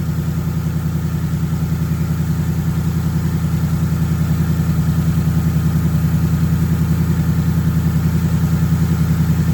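A 2024 Mustang GT S650 V8 fitted with a big intake idles steadily, its deep, even engine rumble loud and close with a constant pulsing throb and no voices.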